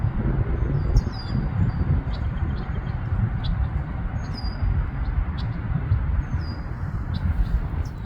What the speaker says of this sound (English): It's a red-winged blackbird.